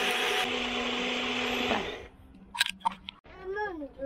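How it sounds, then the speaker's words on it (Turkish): A 700-watt blender runs on a boat while making baby food, a loud steady whirring drone that cuts off after about two seconds, followed by brief clatter and a voice speaking. "Hemen böyle blenderımız 700 watt."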